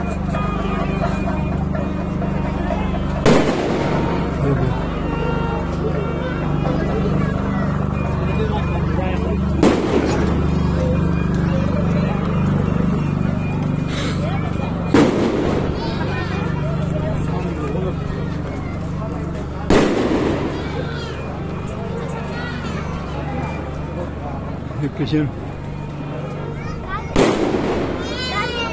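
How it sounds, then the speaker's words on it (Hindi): Firecrackers burst at a temple in Udupi during an aarti, about six sharp loud bangs spaced several seconds apart, over crowd noise and someone talking nearby. "पटाखे अभी चल रहे हैं,"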